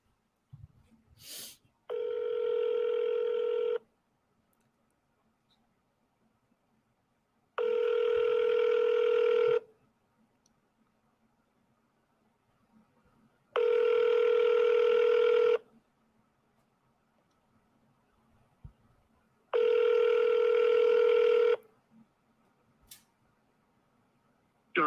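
A telephone call rings out through the handset, with four evenly spaced ringback tones about two seconds long and roughly six seconds apart, separated by silence after a brief click at the start.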